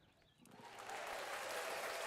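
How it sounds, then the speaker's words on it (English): Light applause from a baseball crowd at a Walnut Creek Crawdads versus Solano Mudcats game swells within a second into steady, distant clapping that holds for a couple of seconds, soft overall. "It's a light clap."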